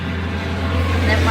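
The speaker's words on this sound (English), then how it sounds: "sorry about the traffic guys, there's nothing I can do" Road traffic passing outdoors, heard as a steady low engine rumble with a constant hum that swells slightly toward the end, with a faint voice underneath.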